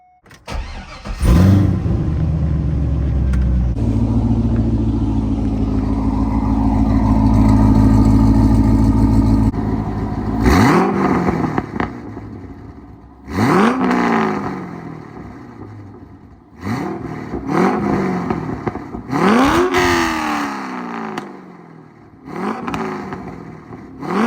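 A C5 Corvette with a six-speed manual, LS Experts long-tube headers and catback exhaust, starts up and settles into a loud, rumbling idle, then gives a series of sharp revs that rise and fall, recorded up close with no talking.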